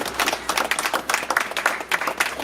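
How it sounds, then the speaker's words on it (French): A crowd at a customary wedding in Brazzaville applauding, dense rapid clapping that stays steady and fairly loud throughout with no voices standing out. "On les applaudit s'il vous plaît."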